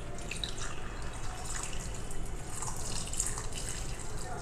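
Water is poured over washed dried apricots in a bowl to soak, a soft, continuous trickle and splash heard close by and quietly, with no talk.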